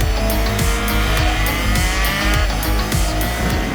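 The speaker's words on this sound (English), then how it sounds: "just listen to the pops of the quick shifter. God, I love this engine." A Triumph Tiger 660 motorcycle engine revs hard under acceleration with a rhythmic series of sharp quick-shifter pops and gear-change dips, loud and close over rising engine drone.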